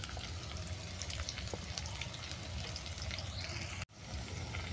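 Spices frying lightly in a pan for mango pulao, a steady soft sizzle throughout with faint clinks, and one abrupt cut of near silence late on before the sizzle resumes.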